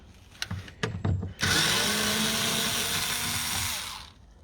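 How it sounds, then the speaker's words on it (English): An electric screwdriver undoes 7mm bolts on a Ford Mondeo Mk4 during a speaker replacement, a few short clicks and taps giving way to one loud, steady whirring run of about three seconds before it stops. "So I'm just going to undo them with my electric screwdriver."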